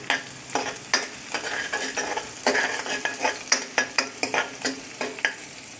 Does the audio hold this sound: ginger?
yes